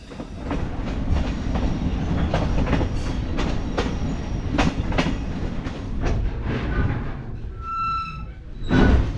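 TAZARA passenger train crossing Tanzania on slippery rails, its wheels beating a steady clickety-clack over the joints with rumbling carriage noise throughout and a brief squeal of wheels near the end.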